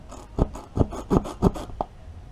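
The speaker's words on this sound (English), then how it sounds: "We're gonna ream the hole out with this tool first." A reamer tool is worked into a tire puncture hole through the steel belt wires, making five or six sharp, rhythmic rasping scrapes close up, each a short grinding stroke with brief pauses between.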